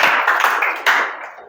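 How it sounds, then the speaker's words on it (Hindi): A short burst of students clapping in an English lesson, a brief patter of hands that fades out quickly. "बिल्कुल, तालियां हो जाए"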